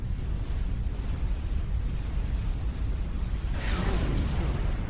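Heavy, continuous battle rumble from the real-time strategy game Supreme Commander 2, with a bright, swelling burst near the end as a commander unit explodes.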